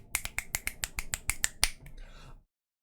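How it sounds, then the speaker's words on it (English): Ten sharp finger snaps in a quick, regular rhythm, close and crisp, followed by a brief soft rustle before silence. "Let there be finger snaps in the chat."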